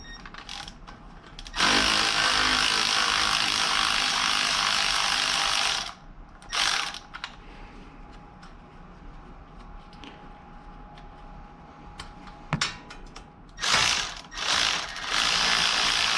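A ratchet clicks in quick bursts, backing out an 8 mm speed sensor bolt on a 2017 Ford Flex during hub and knuckle work, with pauses between the bursts and no talking.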